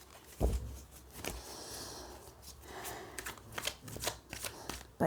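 Tarot cards being shuffled by hand, a close, crisp riffling and flicking that repeats in short bursts with soft taps, with no talk over it.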